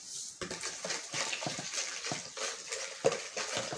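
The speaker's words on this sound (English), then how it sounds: "Stir it very well." Water sloshing and swirling as a soap-making mixture is stirred in a container, with soft knocks against the sides, close by and continuous.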